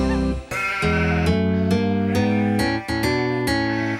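Sheep bleating in a children's animal song, a series of loud, tonal, wavering bleats in quick succession, close and clear.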